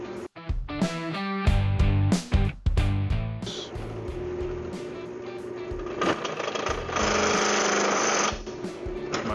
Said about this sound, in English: And then we'll plug weld in these 3 holes where the screws go